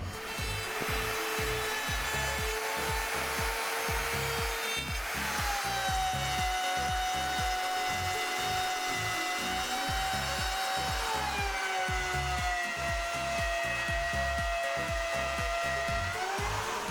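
A power tool cuts a groove into Tricoya MDF board on a roofing site, a steady loud whining drone with a shifting pitch that runs continuously, with no talking.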